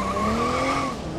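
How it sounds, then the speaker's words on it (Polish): Tires squeal steadily on a car driven in BeamNG, a sustained, loud, whining screech lasting the whole moment with engine noise beneath and no voices. "Ale już pisk opon na cztery buty jest."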